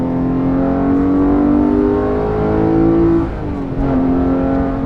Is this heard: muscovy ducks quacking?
no